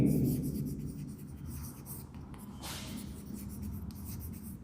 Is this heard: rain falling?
no